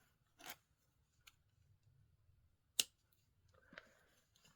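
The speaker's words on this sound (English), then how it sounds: "And then cut the excess off." Scissors cut the leftover cord after a knot on a beaded kandi star, giving a few quiet, separate snips and one sharp click against near silence, close and sparse.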